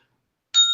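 A bell strikes once after a silence, a sharp, clear ring with steady tones that holds on without fading, close and fairly loud.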